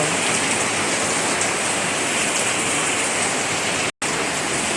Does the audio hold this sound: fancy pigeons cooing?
no